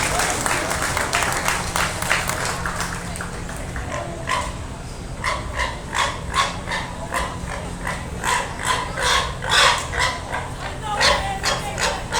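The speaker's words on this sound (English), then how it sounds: "Give these kiddos one more round of applause before I go select your champion" An audience at a county fair swine show applauds the kids exhibiting pigs, with steady clapping that swells over the second half and occasional voices beneath.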